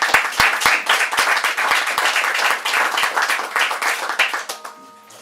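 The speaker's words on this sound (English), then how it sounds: "round of applause for new members." Board meeting audience gives a round of applause, dense overlapping hand claps with a few sharp individual claps standing out, steady for several seconds then tapering off near the end.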